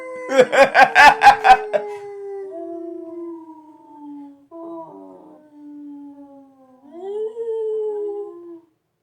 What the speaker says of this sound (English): Sounds more like a hound dog